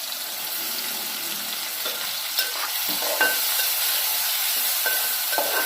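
Chopped tomato frying and sizzling in a hot pan for methi aloo sabzi, a steady hiss with occasional scraping stirs and small clicks, close and alone without talk.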